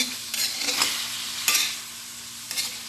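Chicken fries in a pan for a congee with ginger, a constant close sizzle punctuated by about four brisk stirring scrapes of a utensil.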